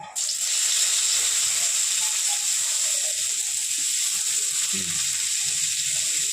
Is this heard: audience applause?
no